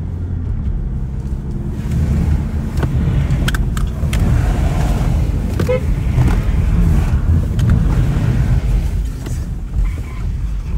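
A car driving on winter tyres during a tyre test at a sports complex, a steady engine and road rumble with tyre noise throughout, close and fairly loud, with occasional cabin clicks.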